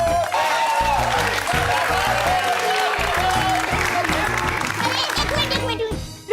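Studio audience clapping in a sitcom set, a sustained wash of applause with scattered cheers that fades near the end, with a voice speaking over it.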